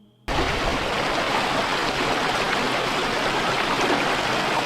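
A river swollen by non-stop rain rushing strongly through woods, a loud continuous broadband roar that cuts in abruptly and holds steady throughout.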